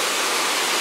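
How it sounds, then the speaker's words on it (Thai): Waterfall at Tad Yeuang in southern Laos, a steady, loud broadband roar of falling water filling the whole moment without pause, no voices over it. "โอ้ยเห็นไหมจากจุดที่น้ำไหลลงมาเมื่อกี้"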